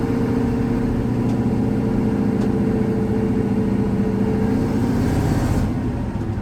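A truck engine idles steadily while warming up, heard from inside the cab as a constant low rumble with no talking.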